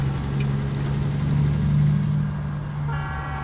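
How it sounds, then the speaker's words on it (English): In American Truck Simulator, a train rumbles past with a steady low drone and a tonal horn-like hum, close and continuous, with no voices. "Train is coming back again."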